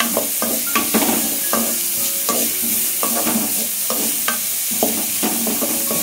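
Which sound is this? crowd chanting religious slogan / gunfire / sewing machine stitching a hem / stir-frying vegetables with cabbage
stir-frying vegetables with cabbage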